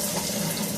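A shower runs in a bathroom, a steady close hiss of falling water with no breaks.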